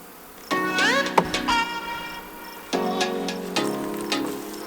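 Honeybees swarm around a crowded, busy hive, their buzzing rising in loud close bursts and shifting in pitch as individual bees fly past, with brief quieter gaps between passes.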